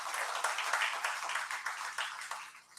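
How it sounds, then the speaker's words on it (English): Applause for parents at a BBA induction programme, a steady, fairly faint wash of clapping from an audience that stays even throughout and tapers slightly at the end. "Please have a huge round of applause for the parents."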